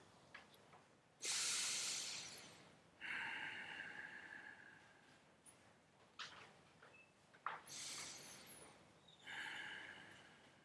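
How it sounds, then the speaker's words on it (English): Ujjayi breathing in a power yoga vinyasa class: slow, rasping constricted-throat breaths come in long hissing waves, a few inhales and exhales close and fairly soft, with no talking. "Slightly constrict the back of your throat, activating Ujjayi breathing."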